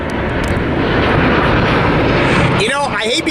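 An Alaska Airlines airliner passes as a loud, steady jet roar that fills the clip, a rising engine whine emerging near the end, with people talking over it.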